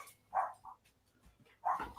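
Outside, a neighbor's dog barks faintly from a distance, giving two short barks separated by a quiet pause.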